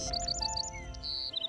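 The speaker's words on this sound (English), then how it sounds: "Can you hear the birds singing?" Cartoon birds sing in quick bright chirps and short whistled tweets, repeated rapidly over a soft musical backing.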